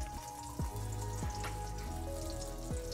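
Dried salted fish (tuyo) frying in a pan, a steady close sizzle and crackle running throughout with small pops and clicks, no voices.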